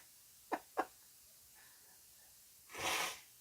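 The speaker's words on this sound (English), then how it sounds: "I'm going to sneeze again" Two quick, sharp sneezes close to the mic, then after a pause a longer, louder breathy burst like a third sneeze or snort, with no talk around them.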